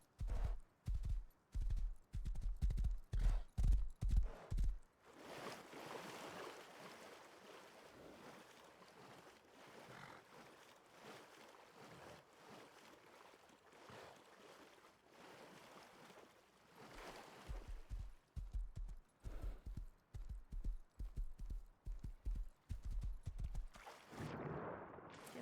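Horse hooves in the survival game Rust clop in a quick rhythmic run, then fade under a long stretch of windy, watery ambience before the hoofbeats return near the end, moderately loud and with no talking.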